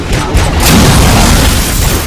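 Gunfire in the RoboCop: Rogue City video game, a loud, dense burst of booming shots packed together over a couple of seconds, blending into one continuous rumble.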